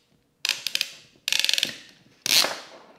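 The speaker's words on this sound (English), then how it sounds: "So now we have our T-barb in there and we put in our cinch clamp." A cinch clamp being tightened onto a hose T-barb for a DIY four-tire air inflation system, with three bursts of crisp metallic ratcheting clicks, close and loud, separated by short pauses.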